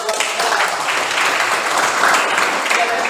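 Steady applause from a classroom audience during a lesson, many hands clapping densely and evenly throughout, close and moderately loud.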